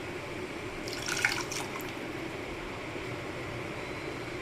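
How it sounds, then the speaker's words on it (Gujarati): Water poured from a cup into a pressure cooker for dal dhokli, a short splashing pour near the start over a steady low background hum, then quiet running noise. "આપણે 1 કપ જેટલું કુકરમાં પાણી એડ કરીને આમાં એડ કરી દઈશું"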